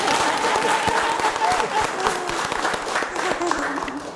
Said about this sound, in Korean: 박수 한번 보여줘.